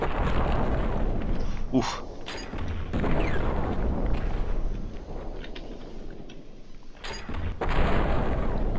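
Grenade launcher blasts in People Playground, several loud booming explosions with rumbling noise between them, while someone speaks briefly over the din.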